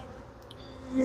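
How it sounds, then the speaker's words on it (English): Bees buzz around an opened hive during an inspection, a faint hum that swells suddenly as one flies close at the end. "Ooh, the bees don't like me at the moment."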